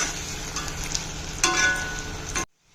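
Garlic, green chilli and mustard paste fry with flat beans in a vegetarian pan dish, giving a steady sizzle with stirring scrapes and a louder burst before it cuts to silence.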